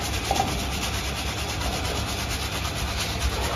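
A surgical scrub brush works over hands and fingernails during a pre-operative scrub for cardiac surgery, making a steady, close, continuous bristly rubbing with no pauses throughout.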